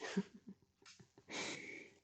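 A single sharp sneeze bursts out after a few quiet breaths and small throat sounds, loud and close, with a softer catch of breath just before it.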